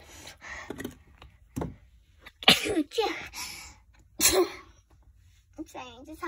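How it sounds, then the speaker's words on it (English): Several sharp, loud sneezes from someone just in from a thunderstorm, bursting out between stretches of conversation. "I'm sorry, I just have a slight sneeze."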